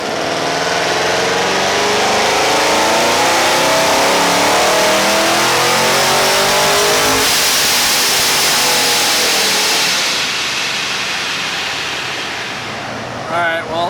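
A procharged Chevy SS V8 revs hard at full power on a dyno. The loud, sustained roar climbs in pitch, holds near the top, then eases off and drops away toward the end.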